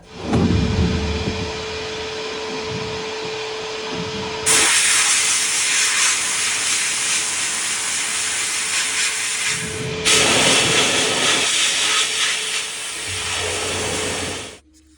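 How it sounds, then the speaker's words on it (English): Sandblasting a steel front linkage part from a Unimog 421, a loud steady rushing hiss in two long bursts with a brief pause between, close and continuous with no speech. "So what I'm going to do is sandblast this second one"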